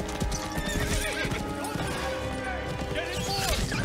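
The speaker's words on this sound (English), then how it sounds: "There he is! On the horse!" A horse in the Ghost of Tsushima video game gallops with rapid clip-clopping hooves and lets out a loud neigh, with crashing sounds and shouted voices over the action.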